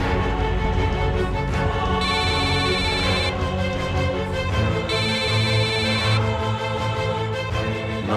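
A telephone rings on and off, unanswered, with repeating electronic ringtone bursts sounding loud and close over a steady background across the whole stretch.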